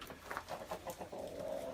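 Chickens sheltering in a greenhouse during an ice storm give a few short clucks and soft calls in quick succession, followed by a longer sustained tone, close by and moderately loud, with no speech.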